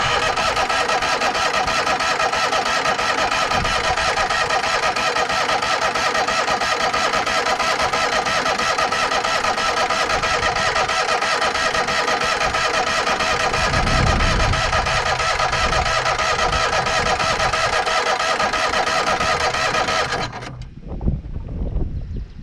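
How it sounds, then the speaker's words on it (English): A vehicle engine in a repair shop is cranked over by its starter for a long, steady stretch, loud and continuous, then cuts off abruptly near the end. "Now we'll crank her until we get."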